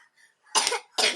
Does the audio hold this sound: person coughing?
yes